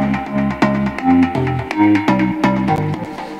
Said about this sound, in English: I have the bass, okay, which sounds like this.